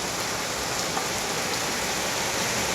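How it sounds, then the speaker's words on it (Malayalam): Heavy rain pours steadily onto a home's front yard, a dense, loud, even hiss of drops hitting the ground with no pauses and no voices. "ഇതൊക്കെ ഈ മുറ്റത്തൊക്കെ നോക്കി നല്ല അടിപൊളി മഴ പെയ്യുന്നുണ്ട് ഗൈസ്."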